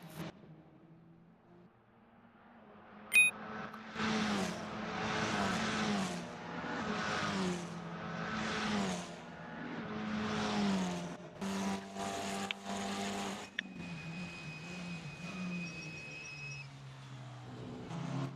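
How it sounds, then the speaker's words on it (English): Formula 4 single-seater race cars circulate at the Nürburgring, with engines repeatedly rising and falling through gears as several cars pass, moderately loud, in a sequence of surging revs and shifts with some overlapping passes. "Now through turn one, they go with Hori Life still in the lead."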